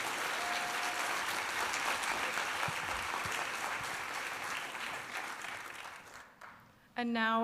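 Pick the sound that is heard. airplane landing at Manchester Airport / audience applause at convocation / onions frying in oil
audience applause at convocation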